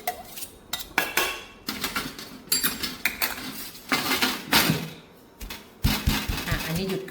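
Garlic and shallot pounded for Thai curry paste, rhythmic heavy thuds with clattering knocks, fairly close and loud, in irregular bursts with brief pauses.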